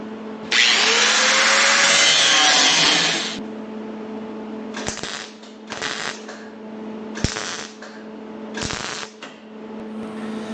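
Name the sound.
cutting a metal section of car patch panel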